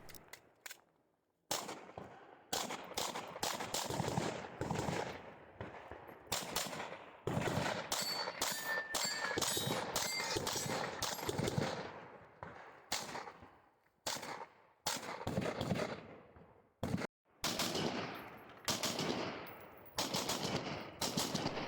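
Rifle fire at a multigun shooting competition, rapid strings of sharp, loud shots in bursts with brief pauses and occasional metallic clangs from steel targets, heard outdoors.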